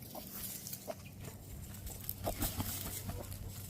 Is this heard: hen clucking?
yes